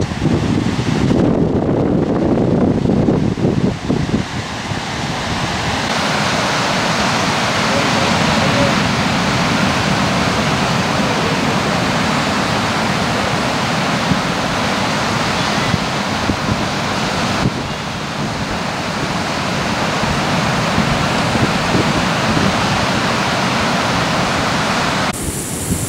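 Beach on a fine day with people swimming: a loud, continuous wash of surf mixed with heavy wind buffeting on the microphone, steady throughout.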